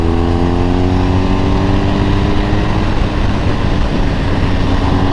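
A motorcycle engine pulling out of a corner on a road ride, a loud close continuous engine drone with rising pitch as it accelerates, with wind noise.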